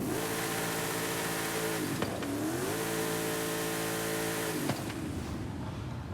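Car engine in the Forza racing game revving hard and steadily at a launch, dropping off briefly around two seconds before climbing again, loud and close with no voices.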